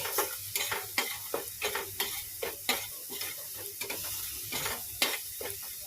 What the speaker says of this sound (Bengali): এই দিয়ে ভালো করে মশলাটা ভালো করে মশলাটা কষাতে হবে